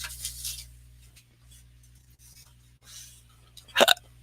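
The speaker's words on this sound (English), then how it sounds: "I burp inwards and it sounds like a hiccup." Quiet shuffling and faint rustling, then one sharp, abrupt gulping sound near the end, an inward burp that sounds like a hiccup.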